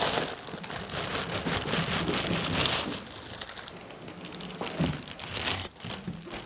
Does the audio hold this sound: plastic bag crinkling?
yes